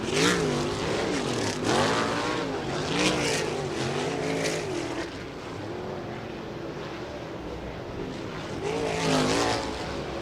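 Big open-wheel USAC Silver Crown race cars roar down the back straightaway at the Terre Haute Action Track, a continuous loud engine drone with rising and falling pitch sweeps as cars pass, steady throughout.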